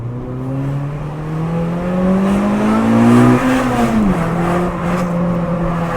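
A Renault Clio RS engine accelerating up through the revs, its tone rising steadily, then dipping briefly at a gear change before climbing again, loud and close with no talk.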